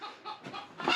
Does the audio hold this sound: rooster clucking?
yes